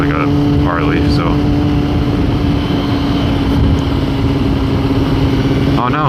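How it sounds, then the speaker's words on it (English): A motorcycle engine drones steadily and loudly while riding on the road, with a constant low hum and a whine that rises and falls, and a voice speaks over it at moments. "There's another bike in front of me now, but it looks like a Harley"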